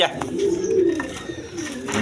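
Caged pigeons at a pigeon seller's coo in low rolling bursts nearby, with a voice talking faintly in the background.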